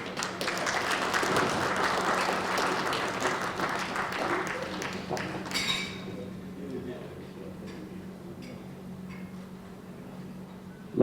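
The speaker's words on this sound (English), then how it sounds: "please give these gentlemen another round of applause" An audience at a jersey retirement celebration applauds, with dense clapping for about six seconds before it drops to scattered claps over a low hum, a voice speaking faintly underneath.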